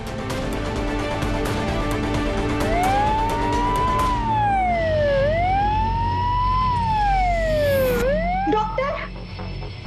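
An ambulance siren wails loudly and close, rising and falling in long sweeping cycles over steady background noise, with a brief sharper tone near the end before it fades.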